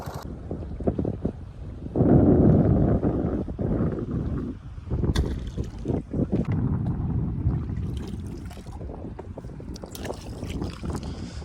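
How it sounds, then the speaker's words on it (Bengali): Motor boat engine running on open water, a low rumbling drone that swells and fades, mixed with heavy wind buffeting against the microphone and occasional splashes. "মেশিন আমাদের স্টার্ট উঠে গেছে আর চলো"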